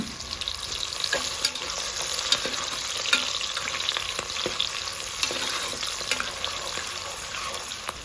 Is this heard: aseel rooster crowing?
no